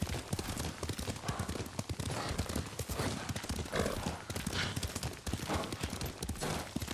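Rapid, continuous clip-clop of horse hooves galloping close by in the video game Ghost of Tsushima, steady and loud throughout, with no talking.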